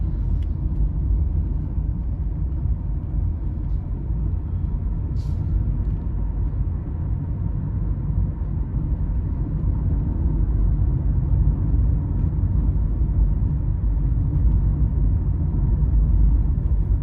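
A Tata Nexon EV electric car drives in sports mode, heard from inside as a steady low road and tyre rumble with a faint hum, continuous and unbroken, and no one talks.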